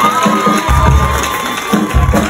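A talent show audience cheers and shouts for a contestant, a lively crowd roar with low rumbling bursts that swell and fall over a couple of seconds.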